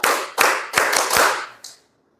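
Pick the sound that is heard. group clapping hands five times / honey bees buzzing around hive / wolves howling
group clapping hands five times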